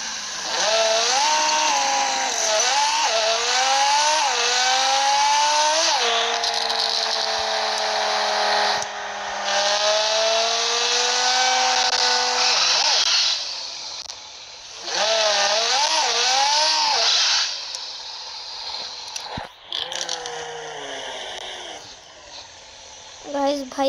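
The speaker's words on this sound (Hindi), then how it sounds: "गाइस गाड़ी अब थोड़ी फास्ट कर लेते हैं," A car engine in the mobile game Car Parking Multiplayer revs and accelerates in repeated rising whines, holding steady between pushes and easing off near the end.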